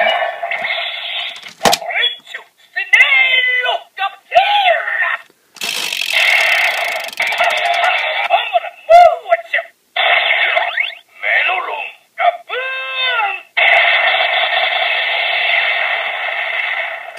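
Gaburevolver Kyoryuger toy gun with Stymero and Gabutyra Zyudenchi inserted plays bursts of electronic sound effects, bright synthesized chimes, warbling tones and voice-like calls, in loud choppy segments separated by brief gaps.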